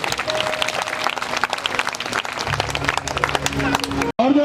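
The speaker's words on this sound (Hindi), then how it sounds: "एक बार हाथ उठा के जोर से ताली बजा दो" An audience at a Bhagwat Katha religious gathering bursts into loud, sustained applause, with dense clapping filling the space and voices mixed in beneath it, before it cuts off abruptly near the end.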